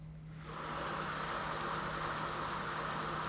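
A 2x72 belt grinder running slowly in forward, its belt riding a platen, starts up after a brief pause and settles into a steady, even broadband whir that continues without talk.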